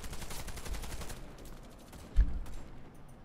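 A gunshot cracks once in the video game Warface, sharp and close, against a background of muffled game noise.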